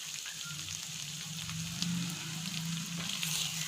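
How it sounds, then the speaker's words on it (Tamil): Curry leaves sizzle steadily in oil in a skillet, finishing a chicken pepper fry, with a continuous close crackling hiss and no talking. "இப்போ வந்து நம்ம அதில் கருவேப்பிலை ஆட் பண்ணிக்கலாம்."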